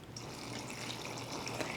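Plain water pours steadily into a cooking pot for stew, a faint, continuous splashing trickle with no talking over it.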